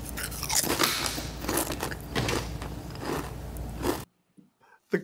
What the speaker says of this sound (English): The crunching in the background was absolutely genius.